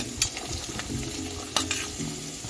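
Vegetables such as onion and capsicum hitting a hot frying pan for vegetable soup, a continuous close sizzle with a few sharp utensil clinks and stirring scrapes, no speech.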